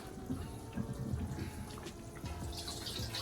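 Hot water pours steadily from a kettle into a pot over turkey necks for a curry, a continuous close splashing and trickling stream with no talking.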